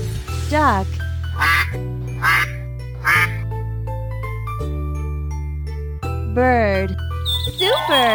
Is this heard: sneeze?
no